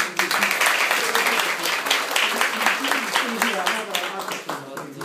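Continuous audience applause at a Japanese school event honouring the Bangladeshi ambassador: dense, steady clapping from a crowd filling the whole stretch, with voices talking over it.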